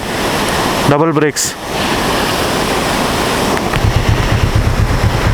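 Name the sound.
waterfall by the road, Sikkim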